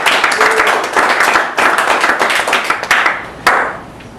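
Audience applause welcoming speaker Matt Rosenbaum to a business class talk, a steady wash of many hands clapping at close range with a few sharper claps standing out, no voices over it.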